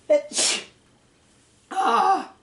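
A sneeze: a sharp inhaled gasp and then an explosive burst up close, followed after a short pause by a second loud voiced breath or exclamation.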